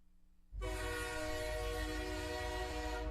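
A loud, sustained train whistle starts abruptly after a brief quiet moment and holds steady with rich harmonic tones, blaring continuously to the end.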